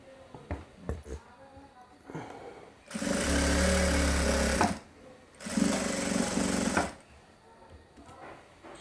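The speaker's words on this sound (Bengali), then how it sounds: "এখানে এদিক দিয়ে আপনারা 2টা করে সেলাই দিবেন" A sewing machine stitches a pillow cover in two loud, steady bursts of about two and a half and one and a half seconds, with a brief pause between them and speech before and after.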